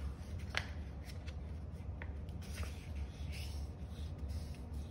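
Paper being folded and creased by hand while making a mandala turtle, soft close rustling and a few sharp crisp crinkles over a low background hum.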